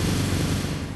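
Fireworks bursting in the shooting game Free Fire, a loud, dense, continuous crackling barrage of overlapping pops that fills the whole second without a pause.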